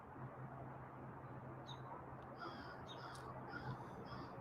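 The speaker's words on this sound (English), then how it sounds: "crow action going on this morning" Crows caw in the morning in a remote, empty desert landscape, a few faint, distant calls drifting over a steady hiss of background noise, with no one speaking.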